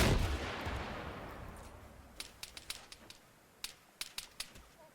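Gunfire in the military game Arma 3: a loud burst at the start decays away, then a string of sharp distant shots cracks irregularly through the rest, with no talking.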